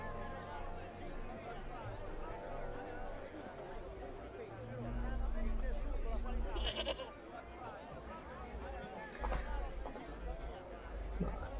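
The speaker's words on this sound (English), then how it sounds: "Oh look, a goat." A goat bleats in the video game Broken Sword II: The Smoking Mirror, amid busy game ambience with murmuring crowd noise and talk, plus a brief hoof-like clatter in the middle.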